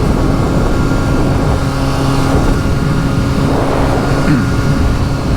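A 2023 Triumph 765RS motorcycle with a decat Akrapovic full exhaust system and Spark headers roars steadily on the road, a loud continuous engine drone with slight pitch shifts as it rides.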